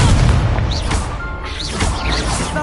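A Confringo fire spell explodes in the Hogwarts Legacy video game as a loud, booming blast with a rumbling crash, followed by sustained roaring game effects with no pause.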